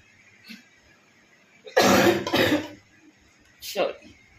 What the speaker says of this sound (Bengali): এত কাশি হয়েছে,